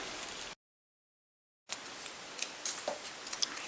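Scissors cut out a paper piece for a journal cover spread. Close, soft snips and rustling paper come in short bursts, with a silent gap partway through and no talk.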